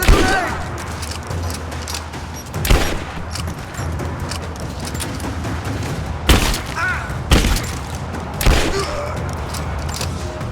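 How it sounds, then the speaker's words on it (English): Grenade explosions and gunfire in the Rise of the Tomb Raider video game, several sharp booming blasts spaced a few seconds apart over a steady rumbling battle background. "Throwing a grenade!"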